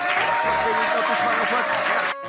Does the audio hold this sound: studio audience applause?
yes